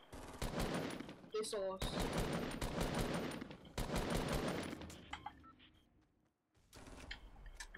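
Rapid automatic gunfire in the video game Fortnite rattles out in dense, loud bursts with short pauses between them, while players talk over the shooting.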